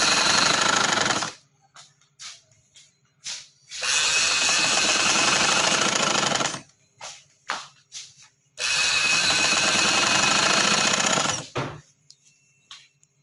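An electric sewing machine stitching a sleeve onto a women's casual dress, running in three loud bursts of several seconds each, separated by quiet pauses with faint handling clicks.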